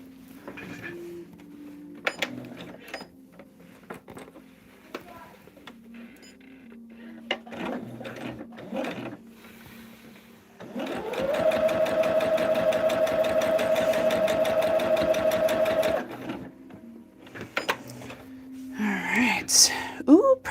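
Sewing machine stitching quilt pieces together, one steady burst of fast, even stitching for about five seconds midway, loud and close, set between quieter handling sounds of fabric and tools.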